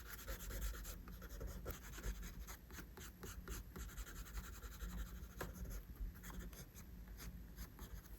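A pencil shades the eyebrows of a drawn surprised eye on paper in a beginner's drawing lesson, giving close, steady scratchy strokes that rub on and on with short pauses, with no talking.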